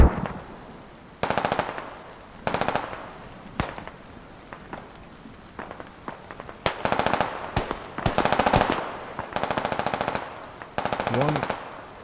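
Machine gun fire in a 50-versus-50 king-of-the-hill infantry battle on the Skorpo map, heard as repeated loud automatic bursts of a second or so each, with scattered single shots and gaps between them.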